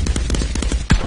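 Rapid automatic gunfire in the VR shooter Contractors, a tight rhythmic string of close, loud shots ending with one heavier blast.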